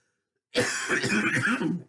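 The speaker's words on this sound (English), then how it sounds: "I probably am going to be coughing a little bit in this video." A person coughs and clears their throat in a continuous rough burst lasting over a second, close and fairly loud, starting abruptly after a brief silence.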